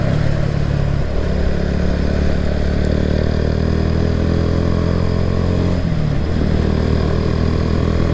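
A Kawasaki W175 SE motorcycle fitted with a deep racing exhaust rumbles steadily and loudly up close, a throaty bass idle with a couple of mild rev swells, no voices.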